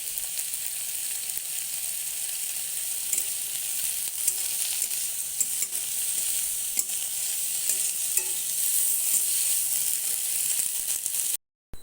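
Egg koftas fry in hot oil in a pan, giving a dense, steady sizzle that stays close and even for several seconds before cutting off abruptly, with no speech.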